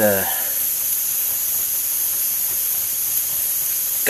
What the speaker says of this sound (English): the second pressure cookers up to steam